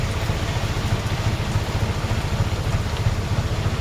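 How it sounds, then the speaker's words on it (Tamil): Heavy rain pours down in Chennai, a dense, steady hiss with no breaks, close and loud, while a low engine throb, like an idling autorickshaw, pulses beneath it. "சரியான மழைங்க, செம்ம மழை."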